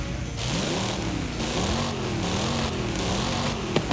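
A white Ford Mustang Boss 302 with its stock 5-liter V8 in Forza Horizon 5 runs steadily and close, a droning engine tone that rises and dips in pitch as the revs waver, with a couple of sharp clicks near the end.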